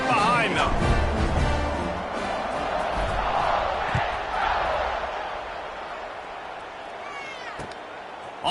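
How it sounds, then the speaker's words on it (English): A stadium crowd at a college football game roars in a sustained, loud wash of cheering and shouting at kickoff, with a few thumps and yells rising out of the dense noise. "this crowd now ready to get behind them."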